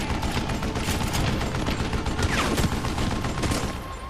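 Dense, continuous gunfire and overlapping shots in the Western shooter game Call of Juarez: Gunslinger, a loud unbroken fusillade with no talk.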